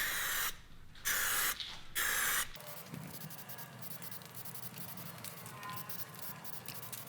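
A spray gun lays a second wet coat of gloss black wrap coating onto car wheels, with two or three loud, sustained hissing bursts up front and a steady softer spray hiss continuing behind them.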